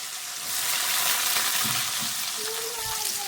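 Steady, loud sizzling of cumin seeds and onion frying in hot oil, a continuous crackling hiss with occasional pops.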